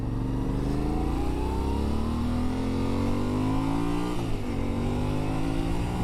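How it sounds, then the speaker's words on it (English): A Yamaha Tenere 700 motorcycle on a test ride, its smooth engine revving steadily upward through the gear with a brief dip at a shift before climbing again, loud and close throughout. "Very smooth engine. Yeah, pretty revvy."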